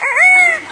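A parrot imitates a rooster's crow in a single short, loud, close call with a rising then sustained tone that quickly cuts off.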